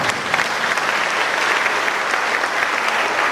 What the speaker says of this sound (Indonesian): Tepuk tangan Tuhan kita.